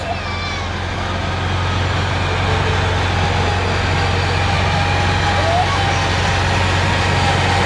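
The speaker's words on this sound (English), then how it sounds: "This is Christina's Home and Garden coming through right now with a beautifully decorated truck." A beautifully decorated truck rolls past in the 2018 Thunder Bay Parade of Lights, its engine a loud, steady low rumble close by, with a few high squeals and crowd noise around it.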